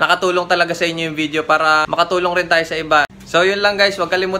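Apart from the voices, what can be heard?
No distinct noise like a dog, phone or traffic.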